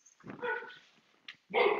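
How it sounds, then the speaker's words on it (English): A pet dog lets out a couple of close, sharp barks at home, with a whimpery yip between them, during an indoor Gyrotonics exercise session. "Sorry, my dog is barking."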